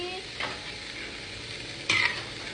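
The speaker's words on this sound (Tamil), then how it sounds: "நல்லா வதக்குங்க." Long beans sauté with turmeric and chilli powder in a pan, a steady soft sizzle broken by two brief scrapes of a stirring spoon.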